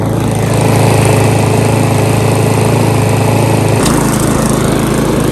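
A serviced, formerly non-running lawn mower engine runs close and loud as a steady, buzzing drone, its pitch dropping slightly partway through, no voices.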